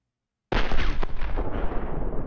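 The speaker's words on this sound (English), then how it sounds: "and then let's press the explosion." After half a second of silence, a sudden loud explosion from an Unreal Engine 5 dynamic explosion audio system bursts in and rumbles on with crackling debris as it slowly decays.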